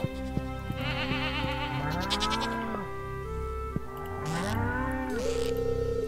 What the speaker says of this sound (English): I take it you can only milk the goats every 2 days then.